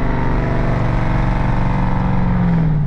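Deep, loud exhaust drone from a straight-piped 2018 Dodge Durango RT on the road, holding a steady rumble that climbs slightly in pitch as it pulls toward the end.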